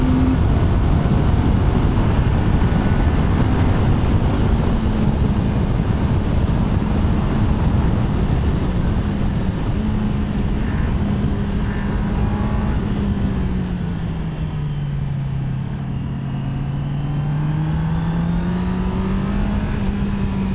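A Honda CBR650R with E-Clutch is ridden on a test ride, its engine holding a loud steady drone under heavy wind rush that dips and rises slightly in pitch as the bike eases and pulls again.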